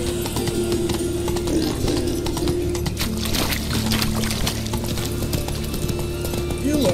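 A horse's hooves clip-clop in a rapid galloping rhythm in The Witcher 3 video game, loud and close over a continuous bed of game ambience, with some voices mixed in.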